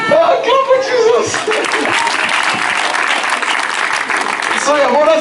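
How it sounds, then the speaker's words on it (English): Crowd clapping at a church reconciliation gathering, a dense rapid patter rising between bursts of speech, with voices talking and calling out at the start and end over the claps. "Clap for Jesus."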